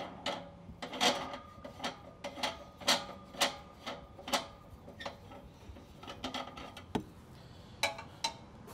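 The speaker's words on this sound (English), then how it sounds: "And then we can undo our wing nut that's on top here." A wing nut is loosened on a gas cylinder regulator mount, giving a string of close, sharp metallic clicks and ticks at an uneven, ratchet-like rhythm over a steady low background hum.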